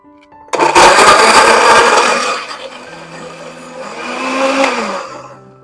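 A kitchen blender grinds shallot, garlic, candlenut, chili and tomato into a paste, a loud sudden whirring roar that eases then swells again before winding down, with no talk.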